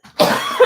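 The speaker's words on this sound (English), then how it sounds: "I don't know where that cough's coming from." A single close, loud cough bursts out alone during a live psychic reading session, with a short second hack at the end.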